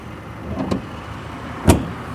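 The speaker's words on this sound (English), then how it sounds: "Closing the dash or the hood." The hood of a 2010 Ford SVT Raptor is shut: a soft knock, then a single louder, solid slam about a second later, close by over a steady low background hum.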